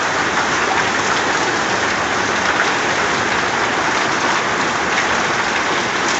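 Heavy rain pours steadily onto a roof, a dense, unbroken hiss that stays loud and close for the whole stretch, with no voices over it.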